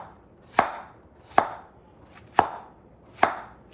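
Vegetables chopped by hand on a cutting board, four sharp knife strikes spaced roughly a second apart, close and clear against a quiet background.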